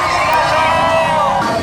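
A crowd at a protest at the EDSA Shrine cheers and whoops loudly, a dense close babble of voices filling the whole brief moment.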